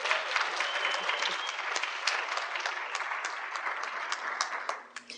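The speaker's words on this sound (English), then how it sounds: "Please give her another round of applause." Audience applause at a women's appreciation event honoring grandmothers, steady dense clapping from a crowd that tapers off near the end.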